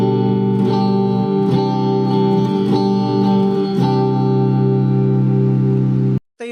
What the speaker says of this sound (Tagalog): So ito yung sound check ng acoustic na effects niya.